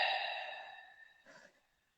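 A single long, gentle exhale through a calm guided breathing exercise, sighing and breathy, fading steadily over about a second with a faint second puff of breath near the end, close and alone.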